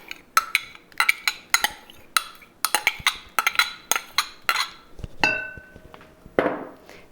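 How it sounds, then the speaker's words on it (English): A spoon scrapes and clinks against a bowl while clearing out melted butter, giving a run of sharp, irregular metallic taps and scrapes up close, followed by a ringing knock and a softer scraping swell near the end. "I like to scrape it with a spoon just to make sure all that butter is out"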